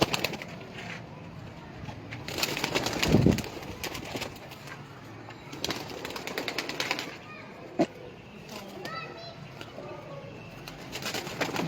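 Pigeons kept for sale coo softly in short, repeated bursts amid wing flutters and scattered chirps, with a louder flapping flurry near the start and steady background bird noise throughout.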